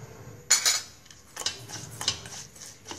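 A metal spoon clinks and scrapes against a bowl while stirring sugar, MSG and salt into a seasoning mix for steamed apple snails with lemongrass and chili, in sharp, irregular taps close by.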